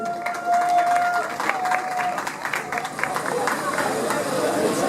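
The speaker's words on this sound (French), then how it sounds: "Mesdames et messieurs, qu'on applaudit très fort s'il vous plaît." An audience applauds at a sports academy trophy ceremony, mixed clapping and crowd hubbub with some talk and a brief whistle-like tone near the start, moderately loud and steady.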